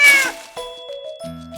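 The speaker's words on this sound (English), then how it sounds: "It's a cat." A cat meows loudly and close up, a drawn-out meow followed by a couple of shorter, rising mews.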